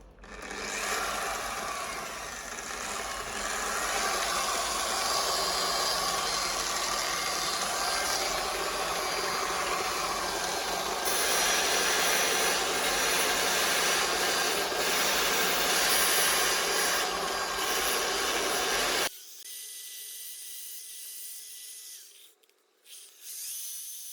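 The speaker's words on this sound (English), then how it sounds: "clean off the head of the buff, and the way I do that is basically just having it on not too fast a speed and then just using some sandpaper" Polisher running at moderate speed on a blue MK2 Golf GTI 16v while sandpaper cleans its buffing pad: a steady loud whirring roar with gritty scraping for about nineteen seconds, then it cuts off, leaving faint clicks and handling noise.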